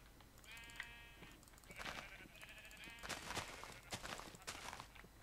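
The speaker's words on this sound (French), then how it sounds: "Encore des moutons, tiens." Sheep in the Minecraft video game bleat a few times over faint in-game ambience and soft footstep-like clicks, with no talk.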